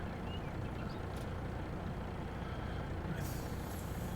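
Truck in Farming Simulator 22 with a steady, continuous engine rumble throughout and a brief hiss of air near the end, moderately quiet with no talk.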